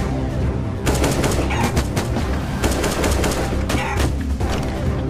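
Counter-Strike animation gunfire: rapid, loud bursts of automatic shots fire almost continuously, dense and close.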